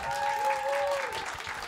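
An audience claps and applauds for comedian Zhenya Halych, a steady, fairly soft ovation lasting the whole moment, with a sustained tonal hum running through it.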